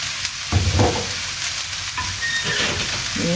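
Fried rice with sauces sizzles and hisses in a hot pan, with a steady frying crackle broken by a few stirring scrapes and clanks, close and fairly loud, no talking.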